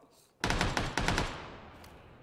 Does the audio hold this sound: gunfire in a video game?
yes